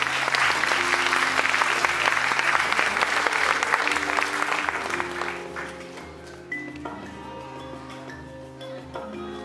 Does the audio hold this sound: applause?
yes